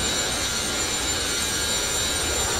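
Boeing 737-200 jet engines at takeoff power in the X-Plane 10 flight simulator, a steady, dense roar with a high whine that holds at one loudness throughout, no talking.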